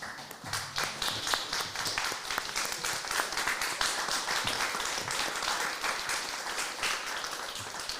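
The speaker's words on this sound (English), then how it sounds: "I'll ask everyone to stand and give our panelists a round of applause" Standing audience at a conference session on surgical care for non-communicable diseases gives the panelists sustained applause, an even, fairly distant wash of many clapping hands throughout.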